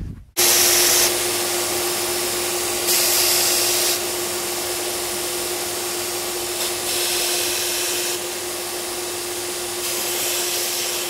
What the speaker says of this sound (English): I have cut some wire into pieces. Now I'm going to sand off the end real quick